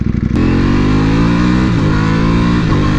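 A Ducati Panigale V4R motorcycle accelerates hard in sport mode, its engine close and loud, the pitch climbing steadily and dipping briefly at two quick gear shifts.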